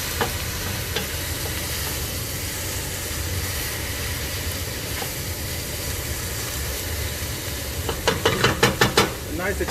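Onions stir-fried at very high heat for lubia polo crackle and sizzle in a steady dense hiss, with brief clatters of stirring toward the end and no clear talk.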